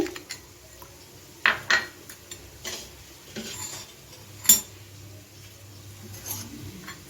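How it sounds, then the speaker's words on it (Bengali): Spoon clinks and scrapes against a bowl as cumin paste is mixed with a little water, a few sharp taps followed by softer, irregular stirring, close and fairly quiet. "বাটির মধ্যে একটু জল দিয়ে দিচ্ছি এখন জিরা পেস্ট দিয়ে দিচ্ছি"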